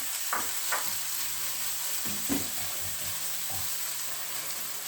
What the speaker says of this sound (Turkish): Havuçlarımı da 2-3 dakika hemen kavuracağım.